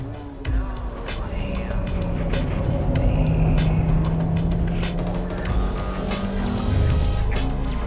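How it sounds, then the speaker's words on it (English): A Honda Type R car driven at full throttle into a hairpin on a racing circuit, its engine droning loud and steady throughout with pitch rising and falling as revs change, the sound recorded from inside the car. "I can approach this hairpin at full throttle."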